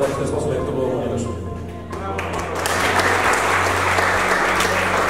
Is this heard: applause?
yes